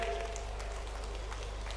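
Audience applause greets the Chief Minister at a public rally in Balaghat, Madhya Pradesh, marking the flag-off of the Rani Durgavati Gaurav Yatra; a steady, moderately loud patter of many hands over a low hum, with no voices.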